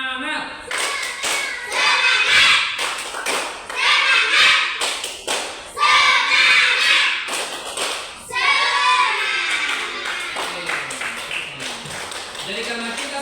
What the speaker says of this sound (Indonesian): Oke, kita mulai tepuk semangat.